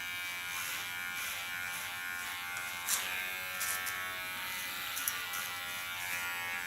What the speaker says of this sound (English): the hair is hard because it's rolling between my blades of the clipper